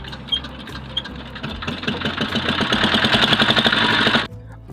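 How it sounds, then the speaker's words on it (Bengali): A trawler boat's engine on the Meghna and Brahmaputra rivers in the Kishoreganj haor country chugs in a steady mechanical rhythm, building louder before cutting off abruptly near the end. "আর এখান থেকে হাট বাজারে যেতে হলে ব্যবহার করতে হয় ট্রলার ট্রলার বা নৌকা"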